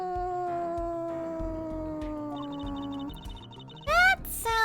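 A pet cat, a female, gives a couple of short rising meows near the end, following sustained tonal music-like sounds in a quiet house.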